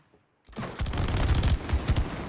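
Rapid gunfire in the co-op video game It Takes Two, a dense loud burst of shots beginning after a brief silence and continuing without a break to the end.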